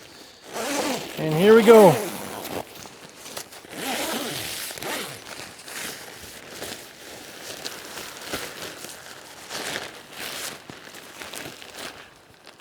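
A zipper on a Mau-Har 2 hot tent is pulled shut in one loud rising run near the start, followed by softer rustling of tent fabric, with someone talking briefly over it.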